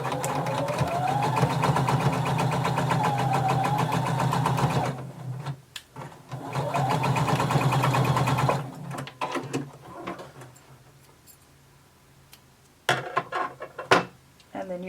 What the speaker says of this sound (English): And now we're going to sew them together using 5/8 of an inch seam allowance.